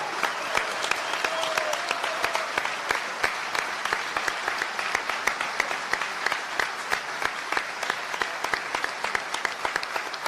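Audience at a political talk on a new constitution breaks into sustained applause, dense overlapping claps at steady volume filling the whole stretch, fairly close, with no speech over it.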